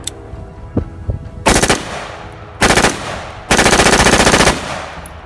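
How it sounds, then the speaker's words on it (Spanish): Gunfire sound effects in a zombie story: a few isolated shots, then three loud bursts of rapid automatic fire, each lasting about a second, with short pauses between them. "dando varios disparos a todos aquellos militares"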